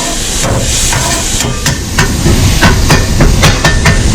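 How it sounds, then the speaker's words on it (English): Cajun dirty rice with salt and pepper stirred in a hot pan, a loud sizzling hiss with a series of sharp scraping and tapping knocks from the utensil, close up with no voices. "Now we're going to mix it around."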